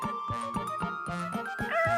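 Small dog-like creature, a Sirius puppy in an English-dubbed anime, gives repeated short yips and whimpers in a quick rhythm, close and fairly loud against a steady high tone.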